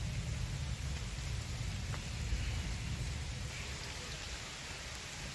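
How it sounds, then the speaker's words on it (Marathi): Steady unseasonal rain falls over Sindhudurg on the Konkan coast, a continuous broadband hiss of drops on surfaces that stays even and close throughout with no voices. "तो पाऊस सुरुवात झाली"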